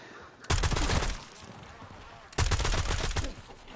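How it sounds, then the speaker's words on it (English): Two loud, close bursts of rapid automatic gunfire from a weapon in DayZ on PS5, each lasting under a second, separated by a short quiet gap. "I can shoot zombies, no problem"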